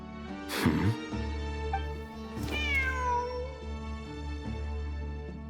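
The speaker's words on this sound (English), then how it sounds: "Wait, there it is! The cat!" A cat meows twice in a video game cutscene set among desert ruins, each cry rising and bending in pitch, close and clear over a steady low musical drone.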